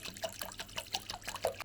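Tap water is poured into a cleaning machine, a faint, continuous trickle with small splashes and bubbling close by and no talking.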